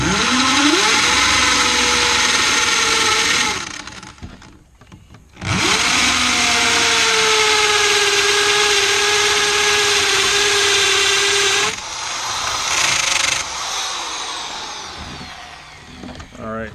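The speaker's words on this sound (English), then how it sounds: "This drill has a nice little level on the back of it" A power drill fitted with a spade bit bores holes into deck boards, running loud and steady in two long bursts separated by a short pause, then a third shorter run with some clatter; no talk over it.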